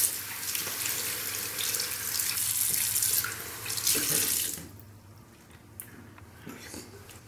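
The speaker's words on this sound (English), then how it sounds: "and then wash with cold water." A tap runs steadily as cold water is used to wash a face at a bathroom sink, a loud continuous splash and rush that drops away sharply midway, leaving faint drips and trickles.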